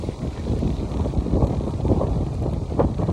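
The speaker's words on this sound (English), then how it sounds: "We're getting some wind." Strong wind gusting outdoors, a steady low roar buffeting the microphone with rising and falling surges, loud and close, with no speech.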